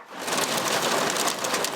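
Small hailstones, around quarter size or less, falling outdoors on Mackinac Island, heard as a dense, steady patter of hard pieces striking and bouncing off surfaces, continuous and fairly loud throughout with no voices.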